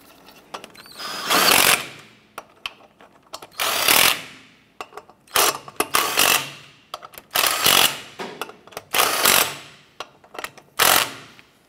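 Repeated bursts of a pneumatic impact wrench snugging lug nuts on a Chevrolet S10 wheel, about seven loud rattling hammering runs separated by short pauses, close up with no talking.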